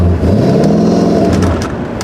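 A classic Corvette C3 sports car engine rumbles loudly and close by, its deep throaty note swelling as it revs, holding strong throughout before easing slightly at the end.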